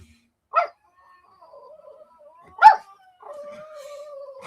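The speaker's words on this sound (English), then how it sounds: "I got these fucking dogs." Dogs let out two sharp, loud barks about two seconds apart. Between and after them come thin, wavering whines and whimpers, all close by with no talking.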